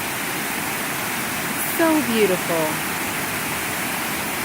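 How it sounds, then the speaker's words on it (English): A circular waterfall in a natural rocky setting roars steadily and evenly the whole time, while someone speaks briefly above the rushing water near the middle. "A circular waterfall."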